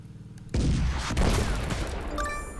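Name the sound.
artillery barrage in Stickman Trenches video game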